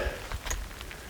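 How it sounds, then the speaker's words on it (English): Rain falls on a hiking trail lined with bushes, making a close, soft patter of drops pattering in a brief, even spray. "the rain keeps getting stronger"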